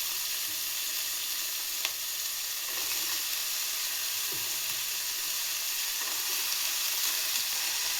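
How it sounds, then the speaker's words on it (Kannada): Purple cabbage hits a hot pan and sizzles in a steady, broad hiss that holds for several seconds, close and even, with a few faint stirring clicks and no voices. "ಇವಾಗ ಇದಕ್ಕೆ ಕ್ಯಾಬೇಜನ್ನ ಆ್ಯಡ್ ಮಾಡಿ."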